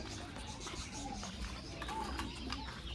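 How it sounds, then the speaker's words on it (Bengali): Pigeons coo softly and intermittently, the low calls faint against a steady bed of background noise, with a possible voice murmuring somewhere in the mix. "এখানে কবুতর আছে"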